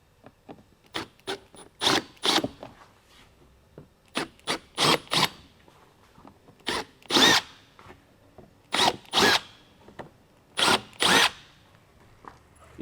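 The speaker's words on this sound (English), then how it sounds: "So 11mm drill bit and just expand the hole." A power drill with an 11mm bit enlarges a hole while fitting a rear diffuser to a Hyundai i30N, whirring in repeated short bursts, starting and stopping in a quick stop-start rhythm, close and clear against quiet gaps.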